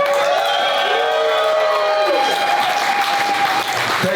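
A crowd at a reveal event for a widebody Porsche race car claps and cheers continuously, with whoops and shouts riding over dense, loud applause throughout.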